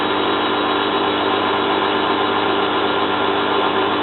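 A Zanussi FLA1002W washing machine spins a duvet at 450 RPM on a 60-degree fast coloureds wash, giving a loud, steady mechanical hum and drum rumble close by with no talk.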